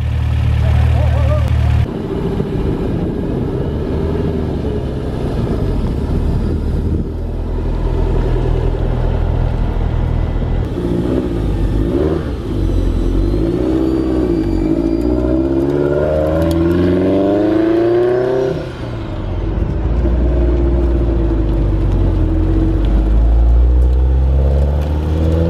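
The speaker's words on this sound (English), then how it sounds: "Get some turbo noises." The turbocharged engine of a Toyota MR2 at a car meet rumbles loudly from inside the car, rising and falling through several revving pulls with turbo whine for about twenty-five seconds, and voices are heard over it.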